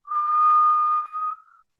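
A person whistles one long, steady, pure note for over a second, then it trails off into a brief softer tail, heard clearly and alone.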